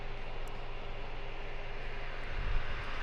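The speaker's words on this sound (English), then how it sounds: "At this moment, the cooling pad is running at 2700 RPM and the noise level is pretty much low" Steady broadband whoosh of a Flydigi BS1 laptop cooling pad's fans spinning at 2700 RPM, a constant close airflow hum with low rumble and no speech.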